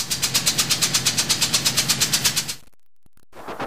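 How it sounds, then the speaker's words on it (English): A compressor with an open cylinder makes a very loud, rapid mechanical pounding with a steady beat, about eight thumps per second, stopping abruptly and followed by near silence and a faint rustle. "the very loud noise of a compressor with an open cylinder"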